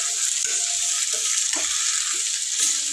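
Aloo methi curry of potatoes, onions and fenugreek leaves stirred in an oily pan on a low flame: a steady close sizzle runs throughout, with a few soft scrapes and clinks of the spoon and no talking.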